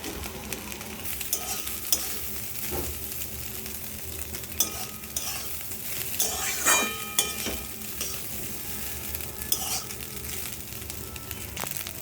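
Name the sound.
rice stir-fried in a wok with eggs and vegetables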